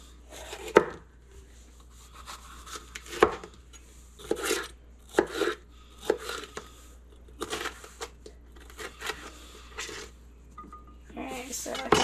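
Green and coloured bell peppers diced with a knife on a cutting board: irregular, close chopping thuds in short bursts with quiet pauses between them.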